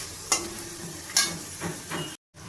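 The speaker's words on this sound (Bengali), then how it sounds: "এবার আমি ভালোভাবে নাড়িয়ে নেব।" Chickpeas and mung dal are stirred in a pan, with a few soft scraping strokes and a low sizzle. A brief gap of silence falls near the end.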